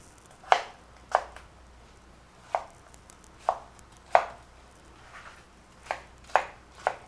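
Knife strikes on a cutting board while vegetables are cut for gazpacho, about ten crisp chops spaced irregularly, close and fairly loud, with no talking.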